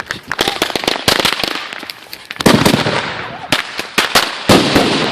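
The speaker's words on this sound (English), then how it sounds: "The little firecracker." Firecrackers and fireworks burst in rapid, loud crackling volleys at a 4th of July celebration, with dense strings of pops in several bursts and people shouting nearby.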